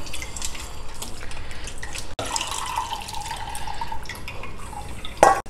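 Soaked tamarind squeezed by hand in water to extract juice, with soft wet squishing and dripping splashes that come in irregular bursts, plus a brief louder splash near the end.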